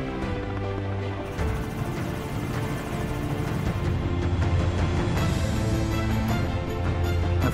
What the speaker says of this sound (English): There's the helicopters, more elephants, come on, quickly.